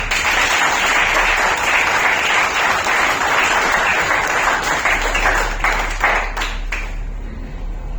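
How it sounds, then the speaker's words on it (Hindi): An audience at an award ceremony applauds for Manish Pandey, with full, continuous clapping that thins into a few scattered claps toward the end. "तो ऐसे हमारे मनीष पांडे सर, जोरदार तालियां।"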